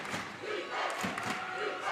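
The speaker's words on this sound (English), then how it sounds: "See the entire crowd getting into the defensive chant right now." A crowd at a boys varsity high school basketball game between Millard South and Papillion-LaVista chants together in defense, a loud rhythmic roar of many voices filling an indoor gym, continuous over the short stretch.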